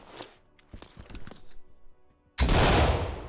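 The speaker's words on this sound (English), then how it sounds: "Flashbang ready." A flashbang grenade detonates in the tactical shooter Ready or Not, a sudden loud broadband blast near the end that cuts in after scattered thumps, clicks and faint gear noises, then rings on as a dense hiss.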